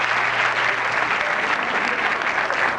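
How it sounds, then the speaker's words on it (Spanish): Audience applause from a comedy show crowd, steady and dense clapping filling the whole stretch without letting up. "Un aplauso para Juanca."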